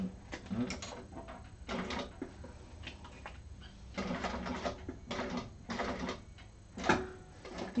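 A hand-cranked sewing machine stitches a small seam with an eighth-inch allowance, giving quiet bursts of clicking and ticking in short runs with brief pauses between them.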